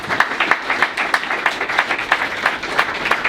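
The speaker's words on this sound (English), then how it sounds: "a big round of applause to all the volunteers that have helped us throughout the year as well" Audience applauding the volunteers at the Gillingham Football Club player of the year awards, a moderate room of clapping with regular individual claps standing out, steady and fairly close throughout.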